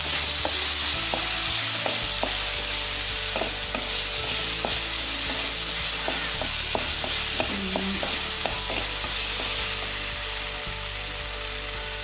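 Fennel seeds sizzling in hot oil in a pan for a Kerala anchovy fish curry. A steady, fairly loud crackling sizzle continues throughout, dotted with small repeated clicks and pops.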